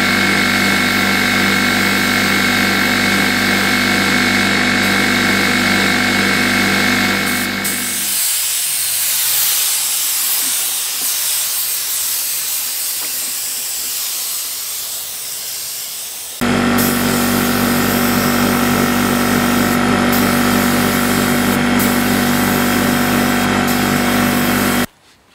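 A paint spray gun sprays a light first coat onto wood, giving a loud, steady broadband hiss with a compressor-like drone that cuts out briefly in the middle and then resumes.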